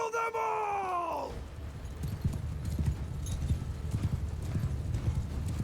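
A mass of about 230 cavalry horses gallops in a Mount & Blade II: Bannerlord battle, with a horse's whinny at first, then a loud, continuous rumble of pounding hoofbeats.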